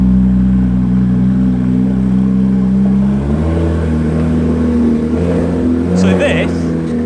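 A Porsche GT3 RS engine drones loudly through a new aftermarket exhaust and revs upward partway through, close to the listener, with speech faintly mixed in.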